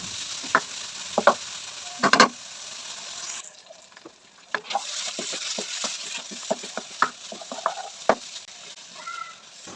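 Fine mutton mince frying in masala in a pan, with a steady soft sizzle and scattered clinks and scrapes of a spoon stirring it.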